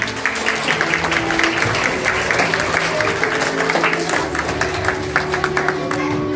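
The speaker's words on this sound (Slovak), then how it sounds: "Zatleskame im všetko." Children at a school carnival, many in animal masks, clap together in a dense, continuous round of applause with scattered voices mixed in.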